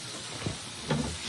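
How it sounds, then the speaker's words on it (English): A hot sub sandwich sizzling on a grill, a quiet, steady hiss with faint crackles, heard alone in a short advertisement segment. "Look at that sizzle."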